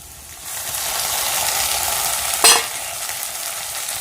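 Browned onions frying in oil as ginger-garlic spice paste is added, a loud continuous hiss that swells after a brief quiet start, with one sharp clack of a utensil partway through.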